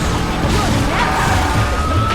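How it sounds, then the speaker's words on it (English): A loud crash in the PS2 racing game L.A. Rush, one broad noisy smash that fills the whole clip with sustained grinding impact noise and no talk. "One sound problem that's really obvious is the sounds when you crash."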